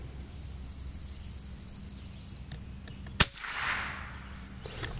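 A single sharp crack from a Mossberg 702 Plinkster .22 rifle at an outdoor range, close and brief, followed by a soft rushing noise, with a faint repeating chirp audible beforehand.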